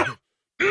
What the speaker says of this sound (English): I'm just gonna clear my throat